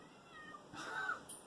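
A female cat gives a drawn-out calling meow, rising and then trailing off, heard close and moderately loud over quiet background.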